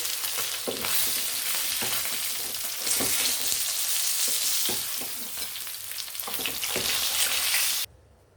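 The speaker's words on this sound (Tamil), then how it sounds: "மீன் இந்த மாதிரி பொரிச்சா போதும்" Fish fries in hot oil with a steady, bright sizzle and occasional soft pops and knocks. The sound is close and continuous until it stops abruptly near the end.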